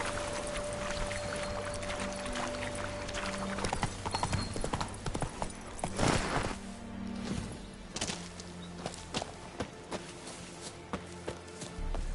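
Steady clip-clop of horse hooves trotting in the Witcher 3 video game, rhythmic and fairly close, with a few louder thuds and background game ambience.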